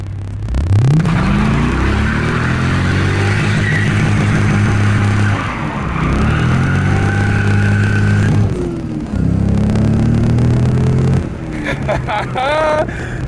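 A C5 Corvette's engine revs hard in repeated loud surges, pitch climbing and dropping as the driver tries to spin the tires, heard up close with no clear talk.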